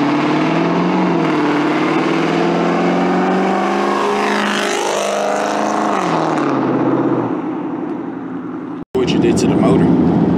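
A loud, rumbling 2002 Ford Mustang GT V8 with cams, mufflers and catalytic converters removed and only an X-pipe, revs up and down with raw exhaust roar, then cuts out abruptly before restarting harshly; a voice may be mixed in.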